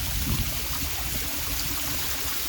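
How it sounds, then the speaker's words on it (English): A small sump or trash pump moving water, heard as a loud, steady rushing and gurgling flow with a low churning rumble, close and continuous with no talk. "It's just a little sump pump, a trash pump."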